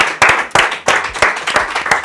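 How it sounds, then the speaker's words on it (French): A short burst of applause at a French game show, sharp hand claps ringing out fairly close and loud for about two seconds. "Vous méritez un tonnerre d'applaudissements pour cette manche."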